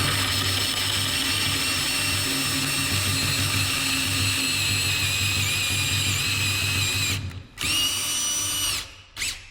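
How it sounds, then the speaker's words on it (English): A power drill boring holes into a log bench for the cross pieces, a loud steady whine held for several seconds, then stopping and briefly restarting twice near the end. "time to drill for the cross stuff"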